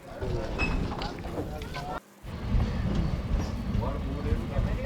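A MEMU train, number 67204, runs from Sri Kalahasti to Nellore, with steady rumbling and rattling from inside the carriage, briefly dipping near the middle; a voice talks over it.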